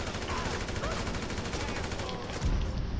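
Rapid gunfire from guns in the video game GTA 5, a dense continuous burst of rattling shots filling the whole stretch, loud and close, with a heavier thump near the end.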